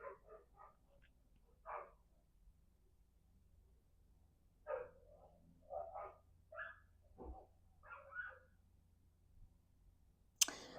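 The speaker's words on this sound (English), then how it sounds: "my neighbors, they dogs is jumping out and barking" Neighbour's dogs bark in scattered short bursts, several separate woofs and yips heard at a moderate distance against a quiet background.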